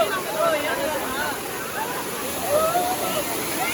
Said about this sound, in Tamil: இங்கே பாருங்க இது வந்து மொதல் வாட்டர் ஃபால்ஸுங்க,